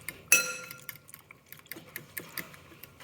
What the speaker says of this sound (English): The longer you stir it, the more it's going to thicken up.